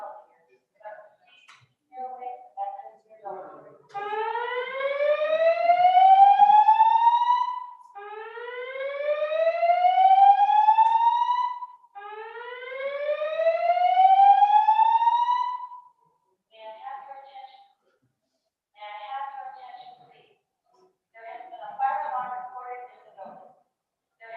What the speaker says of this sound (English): a fire alarm reported in the building